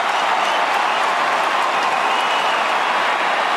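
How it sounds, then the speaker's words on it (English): Australian football crowd at a St Kilda v GWS match, loud and sustained cheering and applause filling the stadium, a dense continuous roar without a break. "Jack Stevens has set the crowd alight."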